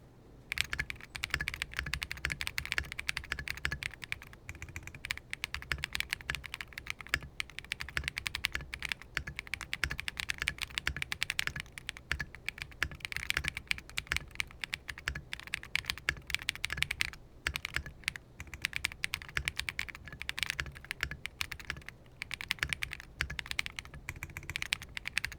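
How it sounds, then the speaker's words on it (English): Someone types on a KiiBOOM Phantom 81 V2 mechanical keyboard, giving a continuous, fairly fast stream of crisp key clacks up close for about twenty-five seconds, with no talking. "Let's go ahead and try typing with this keyboard."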